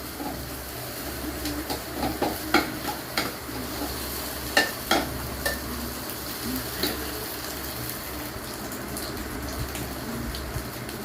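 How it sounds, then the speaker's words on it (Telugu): An egg fries in hot oil while being stirred, giving a steady broadband sizzle with scattered scraping clicks of the utensil against the pan throughout, fairly close and with no talking. "ఇలా ఎగ్గు ఆయిల్లో బాగా ఫ్రై అవ్వాలి."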